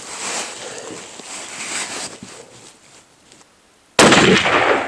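A 7mm PRC rifle loaded with an all-copper bullet fires a single loud, abrupt shot after a brief lull, and a broad, noisy wash lingers afterward, with no talking.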